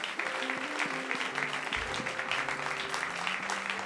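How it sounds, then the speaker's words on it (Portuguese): Church congregation clapping together during a worship service, producing a dense, steady wash of applause with music sustaining beneath it. "Aplauda o Senhor com alegria em nome de Jesus."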